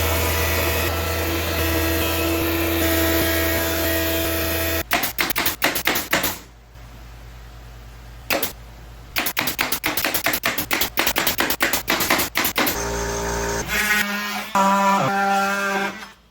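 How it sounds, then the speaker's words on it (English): A wood planer thins a board down to a quarter inch in a cabinet shop, first a steady loud roar, then a burst of rapid rattling, fluttering cuts broken by short pauses, ending in another loud run. "I'm basically just going to plane some wood down to a 1/4 inch"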